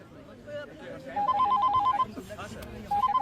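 Telephone ringing in a Hindi action film scene, two short bursts of a trilling electronic ring cutting through dialogue and background sound, fairly close.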